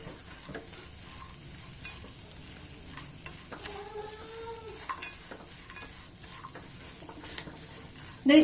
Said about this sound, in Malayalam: അതുവരെ നമുക്ക് നന്നായിട്ടൊന്ന് ഇളക്കി കൊടുത്തോണ്ടേ ഇരിക്കാം